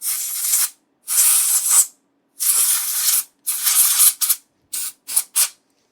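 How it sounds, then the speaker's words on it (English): Compressed air can sprayed in bursts inside an opened Sega Genesis console during cleaning: about seven sharp close hissing blasts, the first four long and the last three short and choppy, with silence between, no talking. "I'm going to do a quick spray with a can of air in here."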